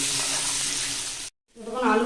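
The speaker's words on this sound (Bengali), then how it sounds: "আলুটা একটু লাল করে ভেজে নেব" Potatoes fry with salt and turmeric in a pan, a steady broadband sizzle that runs loud and close, breaks off briefly, then comes back with a voice speaking over it.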